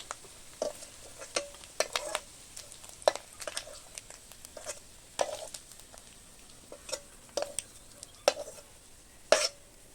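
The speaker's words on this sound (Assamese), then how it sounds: "বেছি ভাজিব নালাগে, 5 মিনিটমান ভাজিলে হৈ যাব।" Food frying in a pan while being stirred, a low sizzle under repeated sharp scraping and clinking strokes that come every second or so, close and fairly quiet, with nobody talking.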